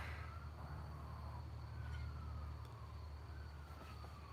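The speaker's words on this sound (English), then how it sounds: "Yeah, there's sirens." Faint, distant sirens wail with slowly sliding pitch over a low steady rumble, no one speaking.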